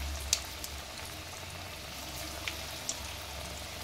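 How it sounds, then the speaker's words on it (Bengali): Drumstick leaf and rice flour fritters fry in hot oil with a quiet, steady bubbling and faint crackle, a few soft pops standing out, no talking. "বাকি বড়াগুলিকে আবার ভেজে নিচ্ছি। দিয়ে দিচ্ছি তেলে,"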